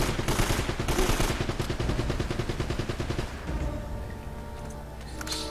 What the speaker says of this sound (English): it's a heavy machine gun on a truck